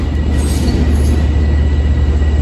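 A Manhattan-bound express train to Penn Station pulls in on track one, giving a loud, steady low rumble of wheels with faint high squeal, no talk.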